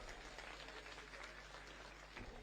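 A crowd at a political rally applauds, a dense, continuous wash of clapping that stays steady and fairly distant throughout, with no voices standing out.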